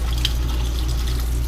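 Water runs steadily from the kitchen sink tap of a 2014 Forest River Georgetown 351 DS RV, fed by the onboard pump into a double stainless steel sink, a continuous close hiss with a faint low hum beneath.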